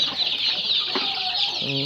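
Chickens on a farm raising about a hundred young roosters cluck steadily in a close, continuous chorus, with a brief lower call near the end and no talk.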